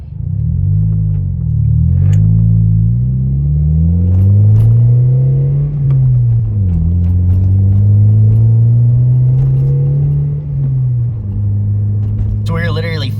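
Manual transmission car driving, engine note climbing in pitch then dropping at each gear change, repeated several times under close, ongoing speech.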